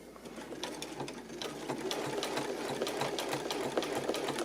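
A sewing machine stitches the corner of a flanged quilt binding in a steady, fast rhythmic chatter that builds slightly, close and fairly quiet, with no talking.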